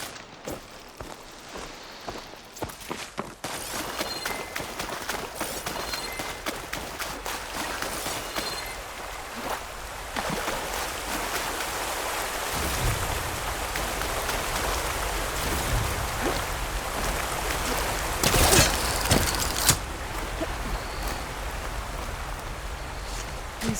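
Steady rushing water from a waterfall in the game Horizon Forbidden West, a broad continuous roar with footsteps and small splashes near the start, growing fuller and louder partway through.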